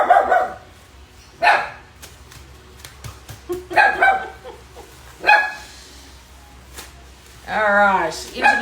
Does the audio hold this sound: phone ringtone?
no